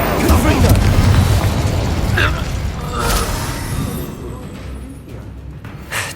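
A Confringo explosive spell from Hogwarts Legacy goes off as a loud, booming blast with a rumbling tail, mixed with other game combat effects.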